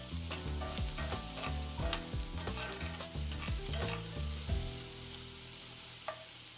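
Onions and peppers sauté in a skillet for a vegan breakfast, giving a close, steady sizzle broken by repeated scraping stirs, then a quieter simmer near the end.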